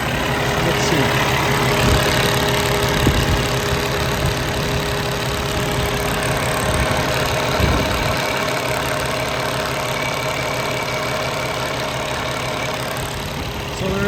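A Cummins ISX diesel in a 2016 Kenworth T680 with an automatic transmission idles with a steady low rumble and faint knock, loud and close, while occasional clanks sound nearby.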